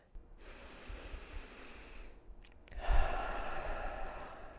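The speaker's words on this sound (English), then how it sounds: "Let's breathe together." Deep breathing during a guided breathwork session, a long, airy inhale followed after a short pause by a louder, rushing exhale, close and alone without speech.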